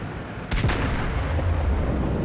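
Battleship main guns firing ranging shots at an enemy Wyoming in World of Warships, a close heavy double boom followed by a sustained low rumble.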